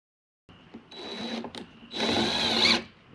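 A power drill drives screws into ICF blocks at a cabin build, giving a short whirring burst, a brief pause, then a louder, longer high-pitched run before it stops, with no talk.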